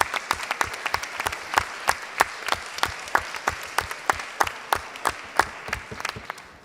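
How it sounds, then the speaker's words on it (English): Audience applause at a conference session, fairly close and steady, clapping with sharp individual claps standing out over a dense wash of hands and slowly thinning toward the end. "join me in applause for both the technical team and interpreters who have helped us through that session."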